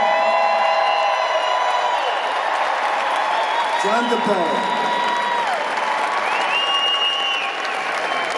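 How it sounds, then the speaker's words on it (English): A live audience at a Joan Records event breaks into sustained applause and cheering for a retiring owner, a steady wash of clapping with whoops and a voice heard over it. "let's give him a cheer"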